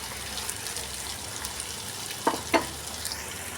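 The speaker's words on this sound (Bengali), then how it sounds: "তো ঢেলে দিয়ে এটাকে আমি খুব ভালো করে এর সঙ্গে মিশিয়ে নেব।" Potato and egg mixture frying in a pan, a steady close sizzle with two quick scraping stirs near the end.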